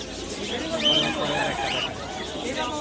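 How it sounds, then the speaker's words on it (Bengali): Babra pigeons coo and flutter among others at a busy pigeon market in Zinjira, Bangladesh. Their soft calls rise out of a crowd murmur while nearby voices talk over them. "এটা বাবরা কবুতর ভাই"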